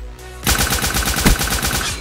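Rapid automatic gunfire in a video game, a steady rattling burst of close, loud shots with one heavier bang in the middle, alone with no talk.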